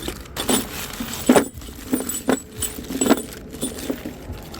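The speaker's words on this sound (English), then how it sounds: "This one has in all the bolts, right?" Bolts from a K24 engine swap mount kit rattle and clink inside their package as it is shaken, with several close metallic jangles in uneven bursts.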